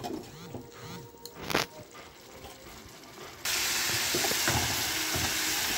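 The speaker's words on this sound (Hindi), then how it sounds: "तो अभी इन सबको मसालों को एक बार सौटे कर दिया जाएगा, मतलब हिलाना मिक्स कर दिया जाएगा।" Spices sautéed and stirred in a pan while cooking vegetable tali dhoka. Light scraping and clinks of stirring give way to a sudden loud, steady sizzle and hiss that carries on to the end.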